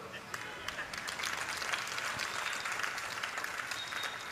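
A crowd applauds at a political speech in Marathi, sustained clapping at moderate distance with a voice speaking over it.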